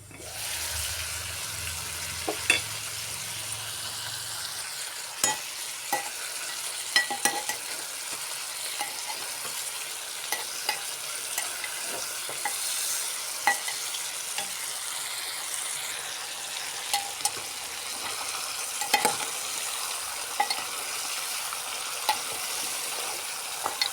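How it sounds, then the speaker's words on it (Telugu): Ash gourd pieces sauté in oil in a pan, a low steady sizzle with occasional scraping stirs and light clinks, close and continuous with no talk. "ఇప్పుడు మనం వేసిన ఆయిల్లో ఓ 10 నిమిషాల పాటు ఈ ముక్కల్ని బాగా మగ్గించాలి."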